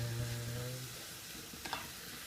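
Smoked salmon frying in a pan for a mushroom cream pasta sauce, a steady soft sizzle with a low hum fading early and a couple of light stirring scrapes near the end.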